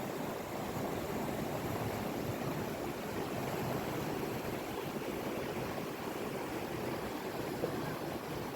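Flood water rushing along a river beside a village: a steady, broad, hissing roar of flowing water, constant and fairly distant, with no voices.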